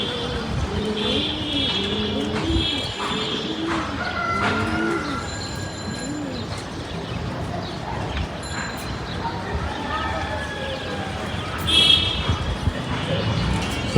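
A flock of young pigeons coos in soft repeated rising-and-falling calls, loudest early on, with people talking in the background and other bird chirps mixed in.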